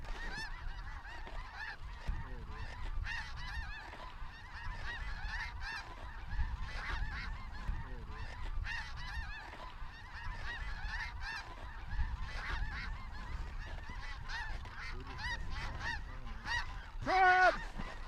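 Snow geese honking in flight during a hunt, a dense, continuous chorus of overlapping calls from a large flock, fairly distant, with one louder nearby honk near the end.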